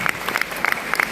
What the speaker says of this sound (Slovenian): Prosim, da damo policiji en aplavz.